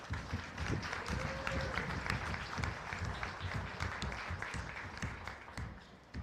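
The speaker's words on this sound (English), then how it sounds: "Let's give him a nice round of applause." A crowd at a county fair beef show gives a sustained round of applause, steady and fairly distant, with faint voices mixed in.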